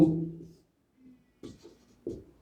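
Chalk or a marker scrapes out short strokes on a board during a maths lesson on determinants, with a longer first stroke followed by a few brief, separated scratches.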